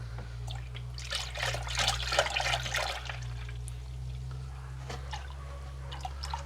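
Coolant trickles and splashes as it is poured into the cooling system of a Holden VX Calais back from crash repair, a soft liquid gurgle over a steady low engine-like hum, with no talk.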